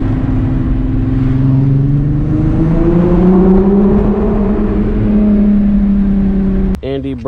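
A Volkswagen Mk3 car driving, heard from inside as a loud, steady engine drone that rises in pitch under acceleration, with a brief voice near the end.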